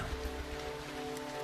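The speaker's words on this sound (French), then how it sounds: "C'est génial, j'adore la pluie." Steady rain falls throughout, a dense, even hiss with low rumbling beneath, close and constant with no voices.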